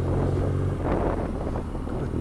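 A 2019 BMW R nineT Scrambler motorcycle on a test ride gives a low exhaust burble on overrun, a rumbling engine note heard close up under heavy wind rush.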